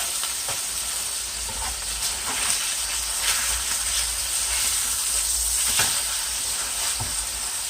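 Scamp grouper fillet frying in a pan just after being flipped, giving a continuous close hiss and sizzle with a few brief louder crackles and small knocks along the way.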